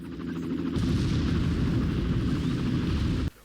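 Explosives blow up a generator in the Far Cry video game, a loud sustained roaring blast with dense low rumble that holds for about three seconds, then cuts off abruptly.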